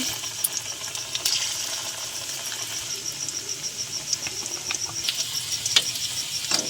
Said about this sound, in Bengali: তেল দিয়ে দিচ্ছি। একে একে পকোড়াগুলো ভেজে নেব।